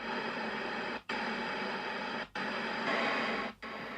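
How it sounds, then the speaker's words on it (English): A circuit-bent spirit box radio with reverb sweeps through stations at a set rate, giving hissing static broken by brief dropouts of near silence roughly every second and a quarter. "so you can hear it stepping through the store stations"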